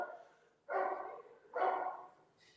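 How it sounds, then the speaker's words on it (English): A dog barks off-mic during a sports discussion, two separate barks about a second apart, each a drawn-out, fairly loud woof against a quiet background. "Sorry, barking dog."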